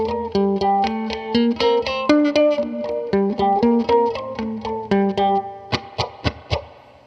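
Electric guitar played through a Boss DD-200 digital delay pedal in a standard delay setting: a run of plucked notes with a light repeating echo tail, then several sharp strummed chords near the end, heard alone.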